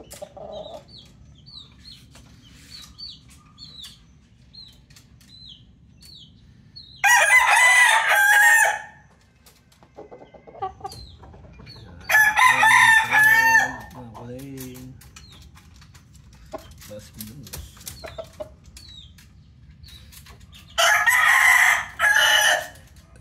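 A bullstag rooster crows loudly three times at spaced intervals, each call a harsh drawn-out burst, while young chicks peep softly in the background between the crows.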